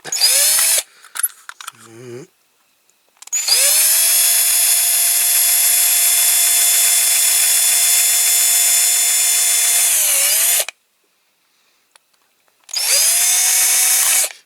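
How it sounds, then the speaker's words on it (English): A power drill fitted with a small bit bores into a Dinky Toys RAF pressure refueller model. It whines loud and steady for several seconds, then stops and starts again after a pause, with brief handling noises at the start. "Okay, we'll start off with a small drill bit."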